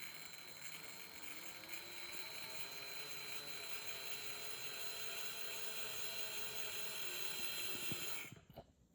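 A high-pitched power drill with a porcelain bit whines steadily and continuously at close range, grinding into porcelain tile, then cuts off abruptly near the end.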